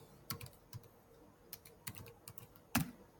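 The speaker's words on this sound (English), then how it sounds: "Then we're going to type our username" A username is typed on a computer keyboard as a short run of separate key clicks in an uneven rhythm, close and fairly quiet, ending on one louder keystroke, with no talking.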